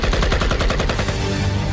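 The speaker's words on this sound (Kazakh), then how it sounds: "Атыс дауысын естіген жағдайда ол бағытта жүруді доғарып, қауіпсіз аймаққа қарай қашыңыз." Rapid machine gun fire rattles in a loud, dense stream of shots that blur into a continuous roar of gunfire.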